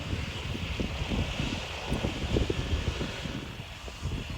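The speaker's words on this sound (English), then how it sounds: "We watched the B-17 taxi for what seemed like an eternity before it decided to take off." B-17 bomber taxiing at a WW2 airshow, heard as a steady rumbling drone with wind buffeting the microphone, continuous and fairly distant, with no talk over it.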